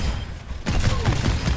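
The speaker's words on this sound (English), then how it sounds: "Oh, it shoots a grenade." A grenade launcher fires in the Overwatch 2 video game, a single sharp burst after a brief lull followed by dense crackling, layered game effects and explosions, fairly loud with no talking.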